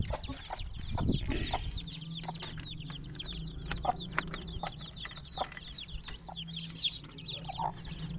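Aseel hen clucking softly near her five-day-old chicks, with repeated short high peeps from the chicks running through steady low background hum, the calls moderately close and continuous.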